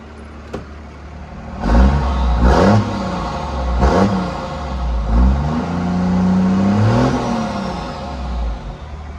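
An old Dodge W350 truck with a 12-valve engine, once seized and flooded, runs close by, revving up several times in rising surges before settling into a steady idle-like drone.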